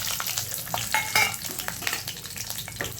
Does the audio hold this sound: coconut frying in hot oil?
yes